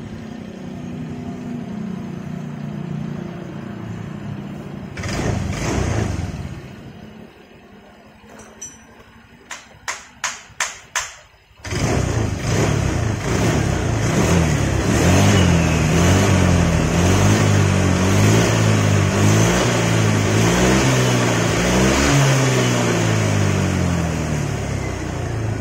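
A vehicle engine starts after several quick cranking bursts, then runs and revs with a rising and falling drone, close and fairly loud on its own.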